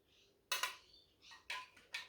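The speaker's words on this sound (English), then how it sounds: "now let's put the spoon back in it" A spoon put back into a Tupperware container of homemade mint sauce gives a few short, faint clinks and scrapes close by, spaced irregularly in an otherwise quiet kitchen.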